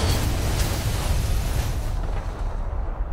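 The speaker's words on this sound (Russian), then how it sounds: "Зачем ты смотрел на взрыв?" A loud explosion in the video game Far Cry: a dense, roaring blast that fades over a few seconds.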